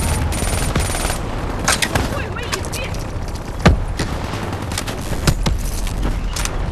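Automatic burst bio gun firing in the Call of Duty Black Ops 3 campaign. Scattered sharp shots crack over a steady loud wash of battle noise, with some louder hits standing out.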